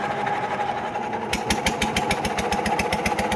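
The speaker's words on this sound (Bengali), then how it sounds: "আমাদের ইউটিউব মালিক এখন বোট চালাচ্ছে" A small motor boat's engine runs on a waterway in the Sundarbans, a steady drone that breaks into a loud, rapid chugging pulse partway through, close by.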